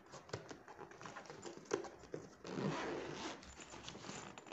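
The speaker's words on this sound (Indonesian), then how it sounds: "Kita buka resletingnya." Zipper on an Arei Cartenz 60L hiking backpack pulled open, a close, rasping run of teeth with a few rustling handling noises around it and no voices.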